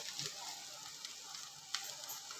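Cumin, mustard seeds and turmeric sizzling in hot oil with onion for a boiled potato bhaji, a faint steady hiss with a few soft crackles and pops.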